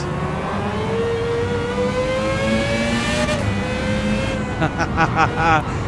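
A high-pitched racing engine from a Spec III car in Gran Turismo 7 whines and climbs steadily through the gears, loud and continuous, with a brief drop and rising again near the end.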